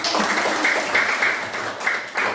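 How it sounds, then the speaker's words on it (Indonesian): Classroom applause from elementary school pupils clapping for their classmates, a short burst of dense, fairly loud clapping, close and continuous for a couple of seconds. "Tepuk tangan buat teman-teman."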